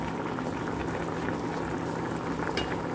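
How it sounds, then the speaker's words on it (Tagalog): A pot of tuna paksiw, a Filipino fish stew, simmers at a steady boil, bubbling and popping softly and continuously at close range, with no talking. "Kumukulo na."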